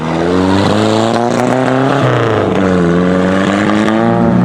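An Austin Healey Sprite 1098 sports car on the move, its small engine droning loudly and steadily with rising and falling pitch as it accelerates and shifts through the gears.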